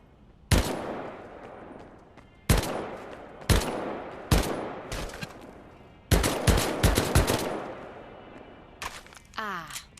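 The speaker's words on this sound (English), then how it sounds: "the semi-automatic 1911 A1 pistol" Semi-automatic 1911 A1 pistol shots in the Medal of Honor video game: several loud, sharp single reports spaced a second or two apart, followed by a quick cluster of rapid shots and a mechanical reload clatter at the end.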